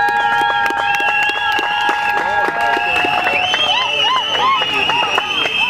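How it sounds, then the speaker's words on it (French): Guests at a civil wedding ceremony applaud with scattered claps under a dense wash of cheering and high, wavering voices, loud and sustained throughout. "Massiela Aimé, tenez-vous debout, M. Aimé, sous vos applaudissements."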